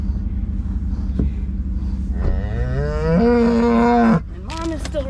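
Dairy cows on a summer farm are let in. A loud, close, drawn-out moo swells and holds for several seconds, with a second call and a low engine-like rumble in the background.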